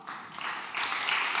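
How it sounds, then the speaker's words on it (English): An audience applauding to welcome panelists onto the stage at a panel discussion, with a dense wash of clapping that swells and grows louder across a second and a half. "Please give them a round of applause."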